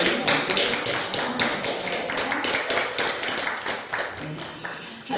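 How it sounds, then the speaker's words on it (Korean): Congregation applauding in a church service, a burst of many hands clapping in a quick, fairly even rhythm, close and lively, continuing for several seconds. "우리 박수 한번"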